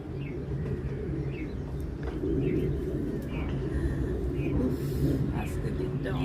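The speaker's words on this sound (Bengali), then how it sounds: "কি একটা পাখি ডাকতেছে" A bird calls repeatedly outdoors in short chirping phrases, moderately distant, over steady low background noise and voices talking beside a flowering periwinkle (nayantara) plant.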